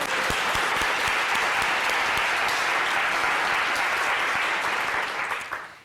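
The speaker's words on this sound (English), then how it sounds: "I think we owe Ted a big round of applause." A conference audience gives a sustained, even round of applause for its organizer at a morning session, a thick wash of many hands clapping at once that fades slightly in the last second.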